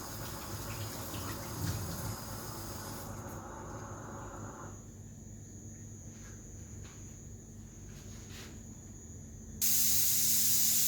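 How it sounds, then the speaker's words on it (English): A pressure pot cooking meat hisses in a steady, continuous rush of steam at moderate level, nearby and alone, with the hiss jumping louder and brighter near the end. "So you hear my pressure pot now."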